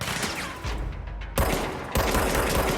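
Gunfire from the video game Control, rapid bursts of shots sounding loud and close, broken by a short gap before the firing resumes.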